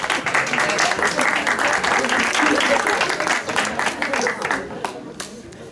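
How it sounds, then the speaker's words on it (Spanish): A crowd of guests at a quinceañera party claps in a dense, sustained burst of applause that tapers off toward the end, with voices mixed in. "Fuerte los aplausos."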